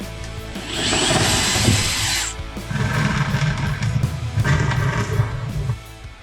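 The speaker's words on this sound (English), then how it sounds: "Let's mark it off and drill." A power drill whines and grinds through a snowmobile in two long bursts separated by a short pause, loud and close, while a Super Clamp 2 tie-down is installed.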